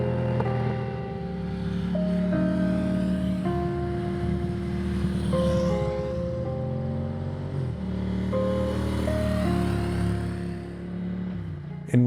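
A motorcycle engine runs steadily on an open road with sweeping corners, a loud close drone with a sustained howling tone that shifts pitch as the rider changes gears and speed, with no voices.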